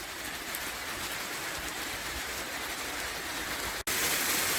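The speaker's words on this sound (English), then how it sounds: "It's absolutely tipping down." Heavy rain pours down in a steady, dense hiss, drumming on surfaces nearby without letup, with no voices and only a brief dropout near the end.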